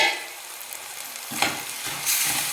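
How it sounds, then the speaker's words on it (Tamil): Chopped tomatoes sautéing with spinach in a hot pan for a palak and peas gravy, a loud close sizzle broken by scraping stirring strokes near the middle and end, with no voices. "அந்த தக்காளியை இதோட நம்ம சேர்த்துக்கலாம் மூடி போட்டு ஒரு ரெண்டு நிமிஷம் வதங்க விடலாம்"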